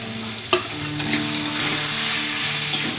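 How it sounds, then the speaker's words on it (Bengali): Grated boiled potato kulcha filling with salt and chopped coriander is mixed and fried in a pan, producing a steady close sizzle with a few spatula knocks and scrapes. "এরপর পুরটা আমি ভালো করে মিশিয়ে নিচ্ছি আর একটু ভাজা ভাজা করে নিচ্ছি"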